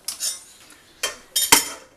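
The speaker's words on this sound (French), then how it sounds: "Je vais faire un petit peu ma vaisselle" Dishes and cutlery clatter and clink in a home kitchen as they are washed, in several sharp bursts of metal and crockery knocks with quiet gaps between.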